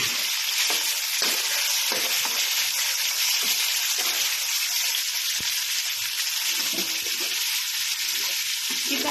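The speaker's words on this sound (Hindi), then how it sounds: "हमने ऑयल गरम कर लिया है। अब हम इसमें डालते हैं चिकन। चिकन को फ्राई करेंगे।" Chicken pieces frying in hot oil, a steady loud crackling sizzle that fills the whole stretch, with occasional stirring and popping bursts over it.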